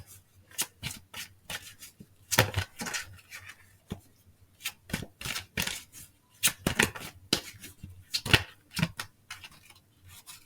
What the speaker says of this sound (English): I'm going to shuffle over here